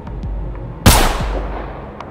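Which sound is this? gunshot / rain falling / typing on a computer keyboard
gunshot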